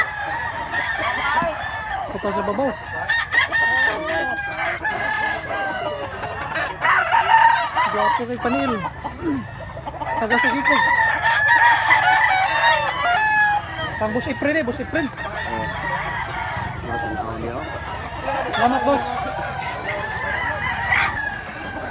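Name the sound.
roosters crowing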